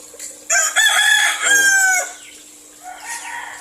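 A rooster crows loudly and close by, one full drawn-out call that trails off, with faint chatter and background noise around it.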